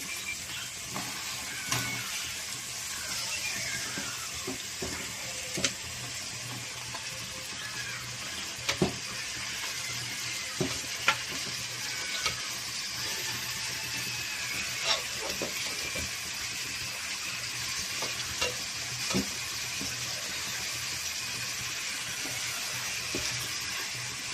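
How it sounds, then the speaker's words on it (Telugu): Fish pieces cooking with fried onions in a pan for a fish curry, giving a steady, close sizzle and bubbling throughout with occasional soft clinks and stirring taps. "ముక్కలన్నీ వేసేసాం కదా అట్లా మగ్గనిద్దాం ఒక ఐదు నిమిషాలు"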